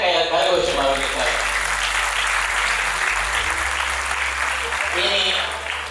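Sustained, loud audience applause for a group of young mridangam students at a music academy's annual performance, a dense wash of clapping filling the whole stretch and easing slightly near the end.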